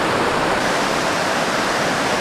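A stream on the Sugarlands Trail in the Great Smoky Mountains rushes past in a loud, unbroken wash of flowing water, close by and steady, with no voices.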